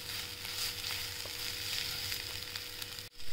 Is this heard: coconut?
yes